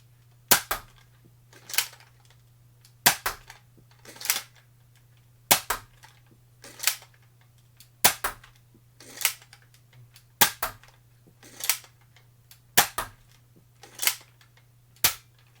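Nerf Fortnite 6-SH toy blaster firing foam darts: sharp, loud clacking shots in a steady rhythm, each snap followed by a softer mechanical priming clatter, repeated about a dozen times with no talk, over a faint constant low hum.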